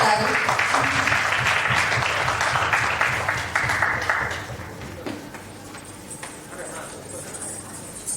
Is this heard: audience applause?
yes